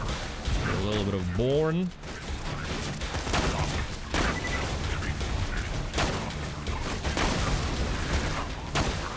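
Grenade blasts and gunfire in Borderlands 2, with rapid cracks and bursts recurring through the stretch while a person talks briefly over the start.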